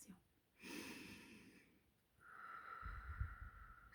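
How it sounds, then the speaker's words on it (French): A single deep breath taken during a guided Easter meditation ritual: a soft, airy inhale followed after a pause by a longer, rougher exhale, close and quiet, with no speech. "On reprend une respiration."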